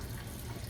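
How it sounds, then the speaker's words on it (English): Tap water running steadily while something is rinsed in a home kitchen during dinner prep, a close, continuous broadband gush with no pauses. "Yes, I rinse under regular water."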